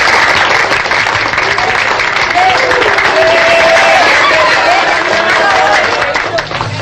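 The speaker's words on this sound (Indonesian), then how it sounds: "Tepuk tangan" An audience at a 1970s quiz contest breaks into loud, dense applause that fills the whole stretch evenly, with crowd noise underneath.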